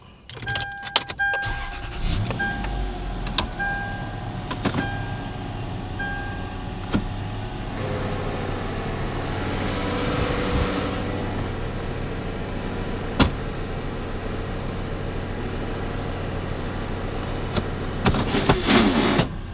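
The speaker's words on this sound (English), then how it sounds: "No, it ain't going in gear. I'm sure you heard that. Some grinding down there." A Toyota 4Runner with a bad transfer case idles nearby as the shifter goes into gear, bringing a rough mechanical grinding and clunks from under the vehicle amid clicks and rattles from the cab.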